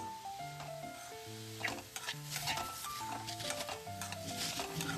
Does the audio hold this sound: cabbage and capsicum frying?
yes